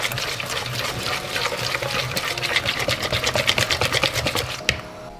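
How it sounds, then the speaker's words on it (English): Melted Mars bar and nougat whisked in a bowl, a rapid, close, rhythmic clatter of the whisk that runs steadily before stopping with a final knock. "we're just whisking it to get all the nuggets or nougat or whatever you call it to like the same consistency"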